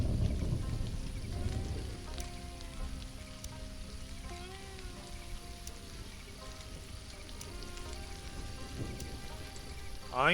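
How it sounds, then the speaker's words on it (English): Steady rain falls in the survival game Stranded: Alien Dawn, a constant hiss and patter that holds an even level throughout, with faint tonal game music in the background. "And it's raining."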